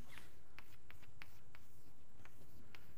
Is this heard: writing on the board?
yes